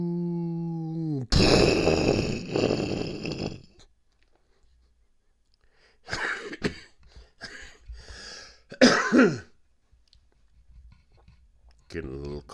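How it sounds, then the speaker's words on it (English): A man coughs harshly and clears his throat in bursts of rough hacking, separated by quiet pauses. "Getting a little cough because of everything going on"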